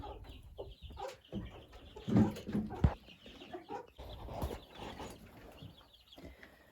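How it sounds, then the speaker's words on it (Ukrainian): Broiler chickens and young chicks of Wyandotte, Marans and Americana breeds clucking softly in a coop, with a few louder clucks in the middle and quiet scratching around them. "Вот такая іділія в курнику. Зверху бройлери, знизу курчата."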